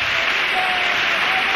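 An audience at the Cádiz Carnival applauds after a comparsa's pasodoble, a dense, loud, even wash of clapping filling the brief moment.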